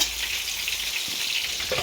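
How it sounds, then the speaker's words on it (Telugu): Chicken curry sizzles loudly in a pan as a little water goes in, giving a steady, close frying hiss with a few faint knocks near the end. "లిటిల్ బిట్ వాటర్ పోస్తాను ఫ్రెండ్స్"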